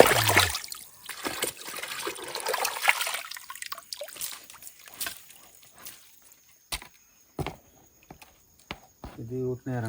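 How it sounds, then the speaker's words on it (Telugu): Wild yams are washed by hand in stream water: close splashing and trickling that comes in uneven bursts, with gaps of near quiet, faint movement and brief voices nearby. "ఇక్కడ నీళ్ళ దగ్గర ఇప్పుడు తీసుకొచ్చిన నారదుంపల్ని శుభ్రం చేస్తూ ఉన్నారు"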